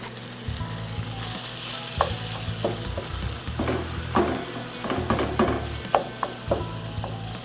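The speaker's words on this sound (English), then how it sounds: "We're going to drop our meat in there. Hear that sizzle?" Loud, crackling sizzle of meat frying in a hot oiled pan, with sharp pops and scraping stirs recurring over the steady hiss.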